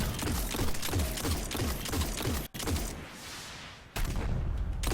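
Weapon fire in the Destiny video game crackles in rapid, rhythmic bursts, broken by a sudden cut and a loud, dense blast like a grenade detonation, all close and heavy.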